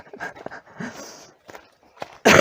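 A dog pants and walks along a forest trail in the Vosges mountains, with short breathy bursts and scattered footsteps close by, ending in a sudden loud rustle.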